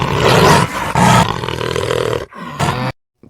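A cartoon tiger lets out loud, rough roars in several long bursts, close and alone with no talk, ending in a short final growl before silence.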